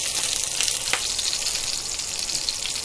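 Chicken wrapped in banana leaf cooks in a pan over a low flame, giving a steady, soft sizzle with faint crackles and no voices.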